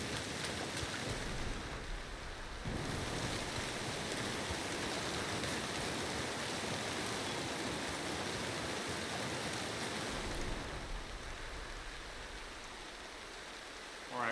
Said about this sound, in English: Wow, it's still raining.